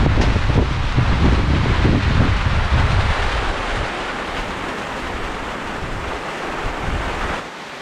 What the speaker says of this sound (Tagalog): May kasama pang hangin, oh.